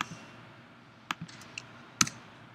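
A few scattered keystrokes on a Mac computer keyboard, quiet and close, with irregular clicks spaced apart and no talking.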